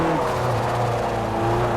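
Honda Prelude from 2000 accelerating in Forza Motorsport 4 after a hairpin on a mountain course, a loud steady engine drone with rising revs throughout, continuous and close with no talk over it.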